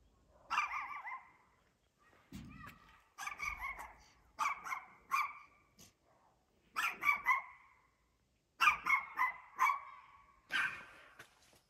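A dog barks in short clustered bursts of several barks each, fairly near and moderately loud, with quiet pauses between the groups.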